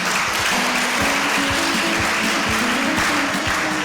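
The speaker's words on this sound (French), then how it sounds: "on va acclamer Dieu pour sa vie." Church congregation at a Sunday service clapping steadily, loud and continuous, with a held tone and faint rhythmic thumps running under the applause.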